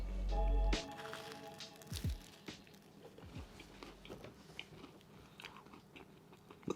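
Toast spread with homemade hazelnut spread is bitten with a crunch near the start, then chewed in soft, irregular crunches close to the mic over low background noise.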